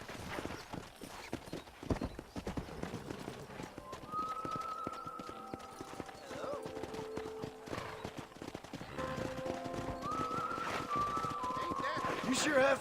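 Hooves clatter continuously at a trot in Red Dead Redemption 2, horses whinny now and then, and people talk through much of it.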